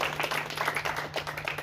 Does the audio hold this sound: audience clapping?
yes